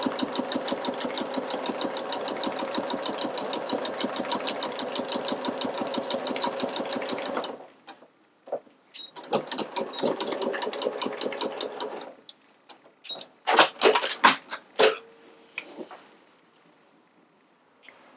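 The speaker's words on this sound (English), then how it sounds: "So I'm going to start stitching, and I'm going to back stitch a little bit within the seam allowance" Sewing machine stitching along a fabric selvage, a fast steady mechanical whir running close for several seconds, then stopping and restarting in shorter runs, ending with a few clacks and knocks of handling.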